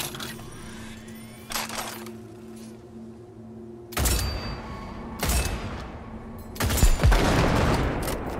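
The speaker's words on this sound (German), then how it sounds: "Deshalb kamen solche Schüsse auf uns." Bursts of turret gunfire in Cyberpunk 2077 crack out in several loud volleys over a steady low mechanical hum, the last burst long and rattling.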